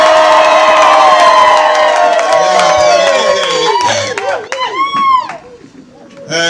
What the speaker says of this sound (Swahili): Haya, makofi kwa Yesu